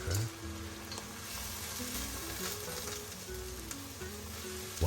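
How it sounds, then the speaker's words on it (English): Pan deglazed with white wine vinegar while braising lamb shanks, a steady close sizzle and bubbling hiss that holds evenly throughout with no voices. "Just add in a little bit of the white wine vinegar at a time to get all of that color and flavor off the pan"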